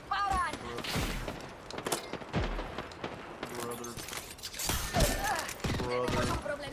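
Scattered video game gunfire with sharp shots and thuds from several directions, mixed with game voice lines and effects throughout, moderately loud and irregular.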